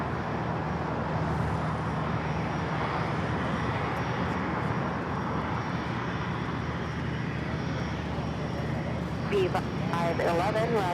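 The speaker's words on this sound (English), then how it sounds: "The Delta 767 taking off on the north side" A Delta Boeing 767 takes off from the north side of Los Angeles airport, its broad jet roar steady and loud throughout while a voice talks over it.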